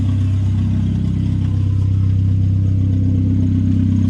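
A turbocharged Hyundai Getz engine runs with the exhaust open straight off the turbo dump, a loud, steady low rumble that holds at an even idle-like level throughout, with no voices.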